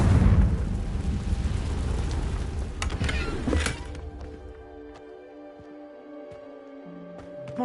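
A Confringo spell blasts in Hogwarts Legacy, a loud rumbling explosion with a crackling burst that cuts off and leaves a quieter ringing, echoing tail.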